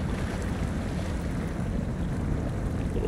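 A truck in SnowRunner churns through swamp water, producing a steady, dense wash of splashing and engine rumble that stays loud and unbroken throughout.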